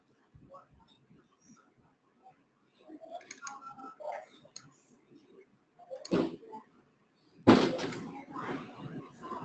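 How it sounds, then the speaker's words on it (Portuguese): A door pushed shut in a room during an online meeting, a solid thud standing apart near the end, after scattered clicks and faint background voices. "Fecha a porta, pô."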